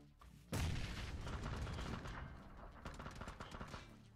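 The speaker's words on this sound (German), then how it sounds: "Achtung! Ach, Granate." A grenade blast in a multiplayer shooter game hits loud and close, then a dense rumble of debris and scattered gunfire follows and trails off, with no voices.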